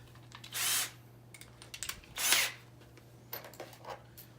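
A cordless power drill whirs in two short bursts during a mirror installation, with quieter handling clicks and taps between them; no one speaks.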